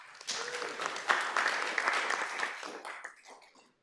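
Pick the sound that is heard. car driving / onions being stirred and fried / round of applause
round of applause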